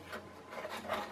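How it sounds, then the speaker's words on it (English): Sandpaper rubbed back and forth over a small wooden model part being fitted before gluing, a soft close rasp in several steady strokes with no talk. "So we'll get that sanding done before we glue it together."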